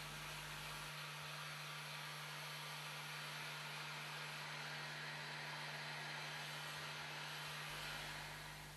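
Heat gun blowing hot air to dry paint pigment, a constant whooshing fan roar with a steady motor hum, close and unchanging from start to finish, no voices.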